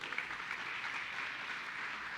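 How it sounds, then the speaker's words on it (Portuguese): A church congregation gives faint, steady applause that sounds distant and washed out, with no voices standing out. "Há um aplauso aí por isso."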